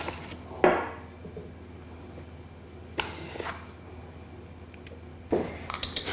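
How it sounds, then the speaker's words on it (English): Flour, baking powder and salt are sieved into a bowl for chocolate brownies. Three separate clinks of a metal sieve knocking against the bowl stand out against a soft, quiet background. "we're sieving to get all the lumps out"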